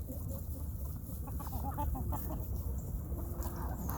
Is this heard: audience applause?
no